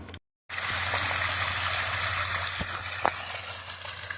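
Water drains steadily from an overhead water storage tank, a continuous rushing, splashing flow close by with a low hum beneath, following a brief silent gap at the start.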